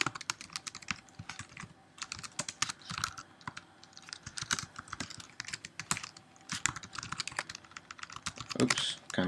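Fast clicking of a computer keyboard during app design work, dense irregular keystrokes in bursts with short pauses, close and crisp throughout.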